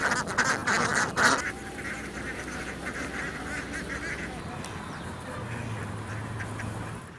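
A large flock of ducks raised on waterside land at a duck farm in Karur quacks in a dense, continuous chorus. It is loudest at first and then settles into a steady, busy babble of many birds close by.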